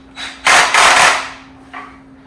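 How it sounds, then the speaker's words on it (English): A cordless drill set to low gear slips its clutch while driving a screw into a plastic Polywood rocking chair, giving a loud, close ratcheting burst of about a second, then a shorter, fainter one, with no talking. "And you hear the clutch on the drill, stopping it from really cranking down super hard."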